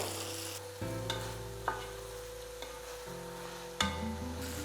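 Tomatoes and onions fry in a pan for Kerala-style anchovy thoran, giving a steady close sizzle broken by several scraping spoon strokes as they are stirred.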